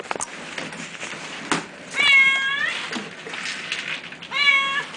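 Cats just brought home from a trip call out with two clear, drawn-out meows, close by, between faint shuffling and soft handling noises; no talk over them.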